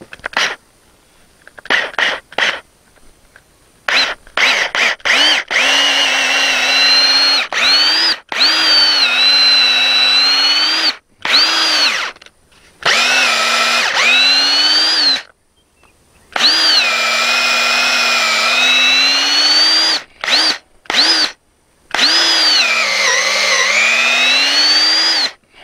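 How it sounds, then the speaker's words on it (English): A power drill with a 3/8 bit bores into a wooden corner post in repeated peck-drilling bursts, a loud motor whine rising and sagging under load, separated by short silent pauses. "And so I'm using a 3/8 drill."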